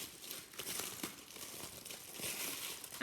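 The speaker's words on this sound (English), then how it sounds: "you could pop some foil and you could screw it into a little ball" Aluminium foil crumpled and screwed into a small ball for decorating an Easter hat, giving a continuous close crinkling and crackling that stays steady throughout, with no voices.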